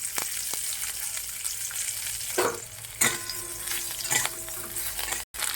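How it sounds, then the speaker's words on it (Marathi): Stalks roasting in a small spoonful of oil in a pan, sizzling softly and steadily with occasional spatula scrapes and pops, heard close up and alone. "एक चमच्या बारका तेल टाकले आता हे काड्या पण भाजून घेऊया आपण"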